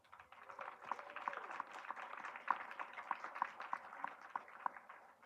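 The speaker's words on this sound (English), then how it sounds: "So just a round of applause for them." An audience at a 25th anniversary celebration at Kendal at Lexington claps in a modest round of applause, a quiet, steady patter of many hands lasting several seconds.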